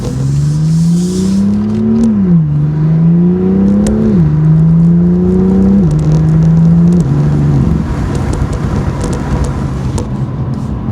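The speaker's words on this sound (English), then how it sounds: "see if you can open up that exhaust just a little bit" A 2018 BMW M2 with M Performance exhaust pulls through several gears from inside the cabin, loud engine rising and dropping with each upshift in a steady rhythm, then settling into a rumbling cruise with road noise.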